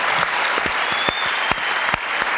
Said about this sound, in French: J'aimerais bien qu'on applaudisse cette initiative,